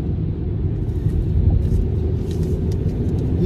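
Steady road traffic rumble, low and continuous, with cars passing at a moderate distance and no distinct individual vehicle standing out.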